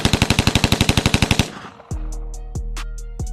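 A handgun fitted with a switch fires a single fast automatic burst of about fourteen rapid, evenly spaced shots lasting roughly one and a half seconds, loud and close, followed by deep rhythmic bass thumps.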